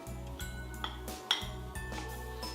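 Praline and soft butter being mixed in a bowl into a sticky paste, with a spoon scraping and clinking against the bowl a few times over a low steady hum.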